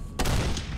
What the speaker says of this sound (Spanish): Me parece oír más disparos